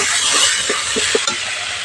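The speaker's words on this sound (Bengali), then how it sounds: "মশলা খুব ভালো করে কষিয়ে নিয়েছি, মশলা থেকে তেল ছেড়ে গেছে।" Ground spice paste frying in a pan while a spoon stirs it, with a steady soft sizzle and a few light scraping clinks, close by and without voices.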